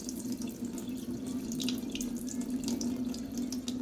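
Cooking water poured off a pot of rice for chicken or beef biryani, a steady close pouring stream with a continuous rushing, splashing flow throughout.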